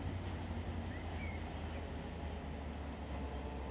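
Freight train with DPU locomotives pushing in the Run 8 train simulator: a steady, low rumbling drone of engines and rolling wagons, continuous and fairly close, with no talk.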